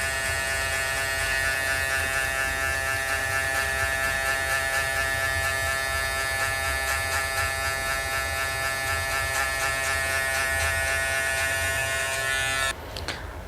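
Electric hair clippers with a number 1 guard smoothing a low fade, a steady close buzz running without a break, shifting slightly near the end.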